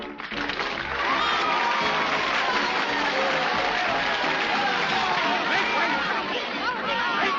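A large crowd cheers and claps continuously, a dense roar of applause and voices that stays loud throughout.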